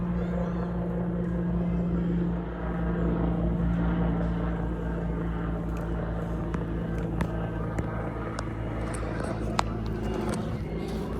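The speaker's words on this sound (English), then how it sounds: "Helicopter in the Philippines." A steady low rotor drone of a helicopter passes overhead in the Philippines, loud and continuous, with faint background chatter.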